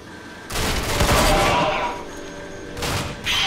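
Sniper rifle gunfire in a video game, with a loud sustained burst of shots followed by two shorter blasts, close and punchy, with a voice speaking in the gaps.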